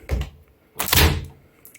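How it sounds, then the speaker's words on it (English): A kitchen pull-out microwave drawer gives two close, dull thunks, a light knock first and then a heavier sliding close and shut, with no voices over them. "And my pull-out microwave drawer."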